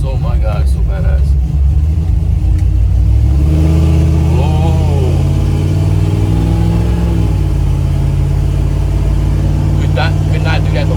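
A 1952 Chevy engine fitted with Aces fuel injection rumbles loudly while driving, rising in a strong rev and settling back to a deep idle-like growl, with a person talking over it.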